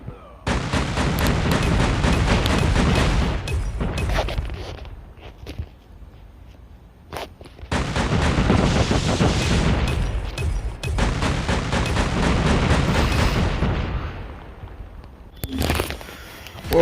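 VTOL airstrike gunfire in Call of Duty Mobile: loud rapid bursts of shots in long sustained volleys, pausing briefly between barrages, with a short sharp burst at the end.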